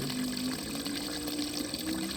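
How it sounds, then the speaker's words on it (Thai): A small waterfall pours steadily, a constant dense rushing roar of flowing water, close and even with no breaks. "น้ำตกน้ำไหล"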